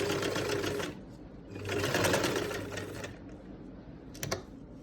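A sewing machine stitches a garment neckline in two bursts of fast, even whirring, close and clear, separated by a short pause, ending with a brief clicking sound.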